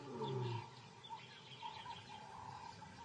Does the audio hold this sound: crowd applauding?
no